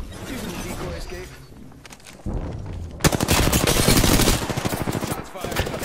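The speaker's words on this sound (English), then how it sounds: "Shots fired." Video game gunshots, rapid automatic fire in dense bursts, loud and close, building to a heavy barrage partway through, with voices talking beneath.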